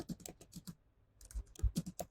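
Typing on a computer keyboard while writing a prompt for ChatGPT: quick bursts of light clicky keystrokes, a short pause, then another flurry of keys, close and fairly quiet.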